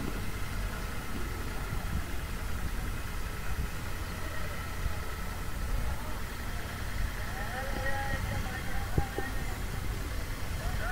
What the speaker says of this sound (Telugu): ఆ పక్క మోటార్ ఒకటి రన్ అవుతుందన్నమాట ఆపోజిట్లో.